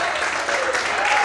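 A church congregation claps together in a steady, loud burst of applause, with voices mixed in under the clapping.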